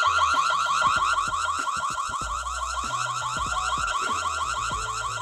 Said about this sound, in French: L'alarme sonore se déclenche lorsqu'elle capte, la caméra capte une intrusion en mouvement.